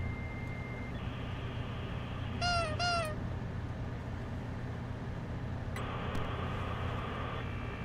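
Motion alert in the Freddy Fazbear's Pizzeria Simulator video game: faint electronic tones over a steady low hum, with a quick rising chirp burst near the middle and another shift in tone later, no talking.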